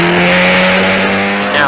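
A Historic Formula Ford 2000 race car brakes hard into Druids at Brands Hatch, its loud, strained engine whine sitting under a race commentator's voice.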